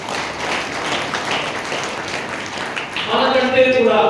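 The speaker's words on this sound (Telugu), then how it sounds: "వారి మనందరం కూడా చప్పట్లు కొట్టి అభినందిద్దాం." A church congregation claps together in congratulation during a Lenten Friday service, a steady, dense patter of many hands that swells louder toward the end, with a voice speaking over it.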